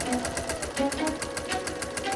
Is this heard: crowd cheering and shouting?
no